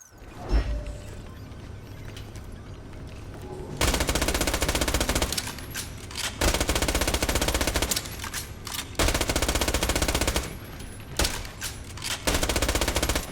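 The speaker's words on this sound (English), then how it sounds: "You want to know how OP this thing is? This is an SMG." Rapid sustained SMG fire in the shooter game Borderlands: The Pre-Sequel, loud and close, coming in several long bursts separated by short quieter gaps with mechanical clatter, no talking over it.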